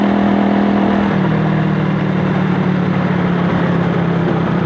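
A Gurkha 125 cafe racer, a light motorcycle of under 100 kg, idles loudly and close by with a steady low drone whose pitch dips slightly early on and then holds, with no one talking.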